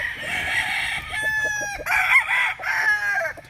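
Butcher and gull gamefowl roosters crow close by, a couple of loud overlapping cock-a-doodle-doo calls following one after another with no talking.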